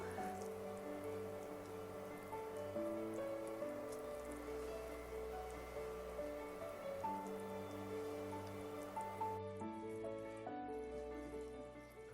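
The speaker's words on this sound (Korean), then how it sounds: "오늘 밖에 비가 가을비가 내리고 있어요" Autumn rain falls steadily outside a home kitchen, a soft continuous patter running through the whole stretch beneath sustained tonal background music.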